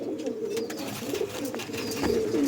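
Racing pigeons of Andhra and Madras breeds coo steadily up close, soft throaty repeated calls forming a low warbling drone with faint background noise and no talk.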